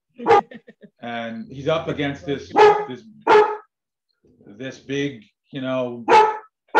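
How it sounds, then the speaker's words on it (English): A dog barks several times in short, sharp bursts indoors during a book club meeting, the yips overlapping and breaking through a person's ongoing speech. "Sorry about my dog."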